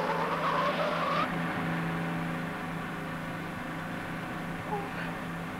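Car taking corners at speed with tires squealing, a steady engine drone under a couple of short high squeals, moderately loud and continuous with no talk.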